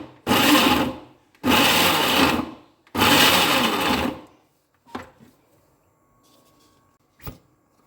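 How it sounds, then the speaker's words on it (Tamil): A mixer grinder jar pulsing chopped onions runs in three loud bursts of about a second each, separated by short pauses, followed by a couple of faint knocks. "மீதி வெங்காயத்தை இந்த மாதிரி மிக்ஸி ஜாரில் போட்டு தான் நம்ம பல்ஸ் மோடில் கொஞ்சமாக ஓட விட்டுக்கலாம்."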